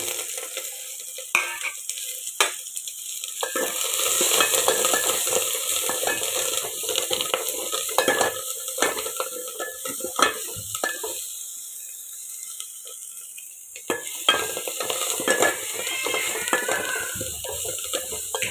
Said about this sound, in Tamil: நம்ம இதில் வெங்காயம், வரமிளகாய், பூண்டு தட்டி வச்சுக்கிறேங்க, கருவேப்பிலை இதை போட்டுக்கலாங்க.